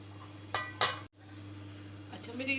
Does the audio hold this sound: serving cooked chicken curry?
yes